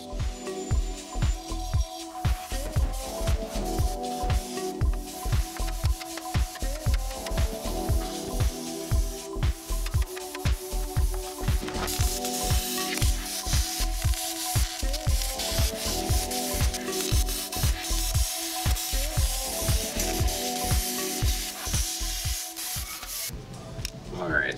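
A power tool grinds and cuts through steel as factory body mounts are chopped off a Jeep Willys Wagon frame, a loud, continuous abrasive rasping with repeated surges and brief pauses.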